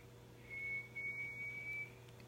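Wrigley, a dog, whistles on request: a thin, high, fairly faint note held for over a second with one brief break.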